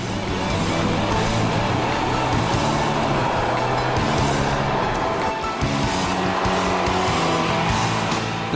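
A BMW M3 with a sport automatic gearbox drives past in a steady, loud, continuous roar of engine and road noise with no pauses.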